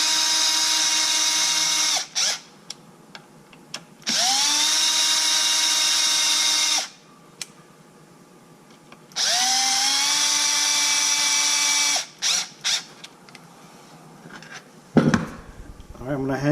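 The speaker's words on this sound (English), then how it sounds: "Now I can take my drill, take it easy at the end," A cordless power drill drives screws into an Arrma Limitless RC car kit in three long, steady whirring bursts, each winding down at the end, separated by quiet pauses with small handling clicks.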